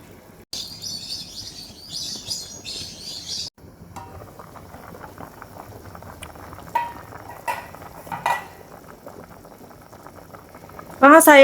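Water bubbles at a rolling boil in a pot for Isan-style snakehead fish sour soup with red ant eggs, with bird chirps early on, a voice nearby, and occasional clinks of utensils.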